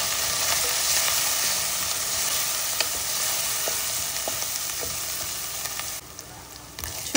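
Onion pieces with ginger-garlic paste frying in a pan for mutton curry, a loud continuous close sizzle with occasional faint ladle taps, alone without voices.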